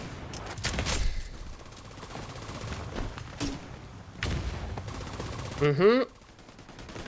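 Automated turret gunfire in The Division 2: several sharp bursts of rapid shots ring out, separated by short gaps, mixed with game effects and a brief murmur.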